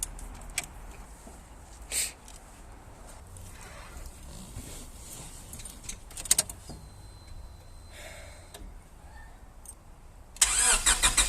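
A 1998 Honda Integra that sat unused for five years is cranked over: quiet clicks and faint stirrings give way to a loud, rough burst of engine noise in the last second.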